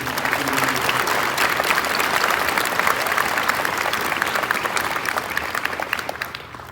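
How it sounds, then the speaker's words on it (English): A crowd applauds team leaders at a cadre-style program event, thick continuous clapping from many people that holds steady for several seconds before thinning slightly at the end. "Big round of applause for the team leaders."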